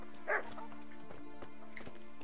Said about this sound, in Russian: Две собаки у палача.